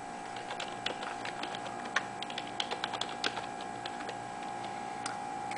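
Fingers tap out a password on a computer keyboard during a MagicJack setup in 2008, a quiet uneven run of light key clicks over faint steady hum.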